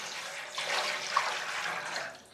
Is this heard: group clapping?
no